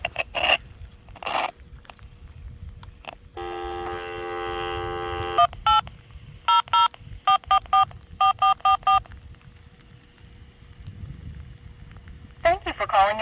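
Touch-tone telephone dialing on a home phone line being checked for a missing dial tone: a long steady tone, then a quick series of short DTMF beeps in bursts, fairly loud and close, with a faint background hum.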